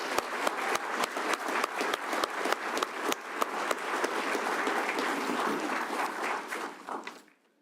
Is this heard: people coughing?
no